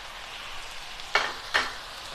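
Tomato added to onion frying in a pan, a soft steady sizzle with two sharp, brief bursts of louder hissing and stirring close by, and no talking.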